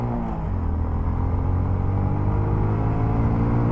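A motorcycle fitted with a 14/36 sprocket combination accelerates in first gear on an open road, its engine a steady close rumble with rising harmonic tones.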